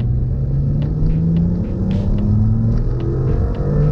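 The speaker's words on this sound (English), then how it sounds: "I'm in second gear and then floor it." A tuned car pulls at full throttle in second gear, its deep engine rumble rising steadily in pitch as it accelerates, loud and close, with no talking.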